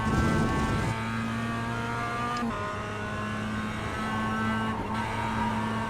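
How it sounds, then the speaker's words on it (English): Simulated production race car in iRacing at Lime Rock Park, a steady engine drone with brief throttle blips and small rev shifts every couple of seconds, continuous and close, no talking. "Just slightly blipping the throttle there to keep the car from doing that."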